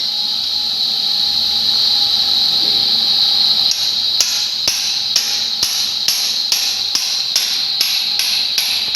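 A worker hammers on a strainer part of a chilled water system during maintenance, trying to knock it loose. About ten sharp metallic strikes come at a steady pace, loud and close, over a constant high machinery whine and hum.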